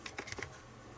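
Keys tapped on a Sinclair ZX Spectrum +2A computer keyboard under repair, about five quick distinct clicks in the first half second, close and fairly quiet, then a low hum.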